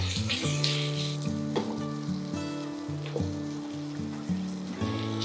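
Ground masala paste sizzles and fries in a hot pan for a fenugreek-leaf rice dish, a steady crackling hiss with periodic stirring scrapes and faint background tones.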